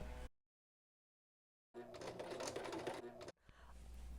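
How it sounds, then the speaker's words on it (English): A sewing machine stitching the two ends of a denim strip into a tube gives a steady, close mechanical whir for about a second and a half, starting after near silence, with a brief quieter hum following. "I need to sew these two ends to make it into a tube."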